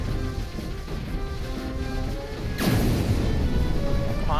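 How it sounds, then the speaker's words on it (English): An enemy ship blows up in the strategy game Particle Fleet Emergence: a sudden crashing burst with a descending sweep midway, then sustained rumbling noise over a droning ambient background. "a different sound effect for enemy ships getting destroyed"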